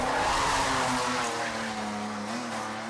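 A car drifts at a gathering in Iraq, its engine roaring and tires squealing in a long, continuous wail heard at moderate distance.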